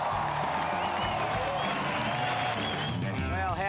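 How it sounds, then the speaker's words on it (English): A beachside crowd at the 2012 Rip Curl Pro Bells Beach surf final roars and applauds in a steady, loud wash of sound, with a commentator talking over it. "would have heard the roar of the crowd"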